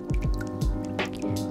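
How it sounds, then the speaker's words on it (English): Colored recycled paper pulp plops and splashes into a bucket of water, giving a quick series of close, wet drips and squishy drops. "I drop 2 cups of colored pulp into the water"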